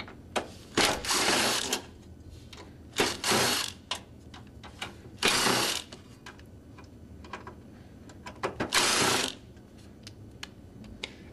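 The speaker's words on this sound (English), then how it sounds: "Then we will take up the seat pan, and to do that, you remove the screws." Screws are removed from the seat pan of an aircraft passenger seat. The result is a series of close, short bursts of power-driver whirring separated by small clicks and handling noises, with no talking.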